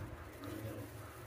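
A Damascene pigeon coos softly and faintly at close range over a low, steady background murmur.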